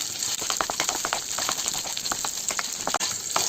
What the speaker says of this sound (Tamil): இந்த வத்தல் கொஞ்சம் கொஞ்சம் லேசாக அந்த வத்தல் வதங்கணும்